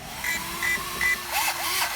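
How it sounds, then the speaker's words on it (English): A small cooling fan on a 2WD electric RC drag car whirs loudly and close, with a vacuum-like whine and short beeping tones rising and falling. "That fan is loud. It sounds almost like a vacuum."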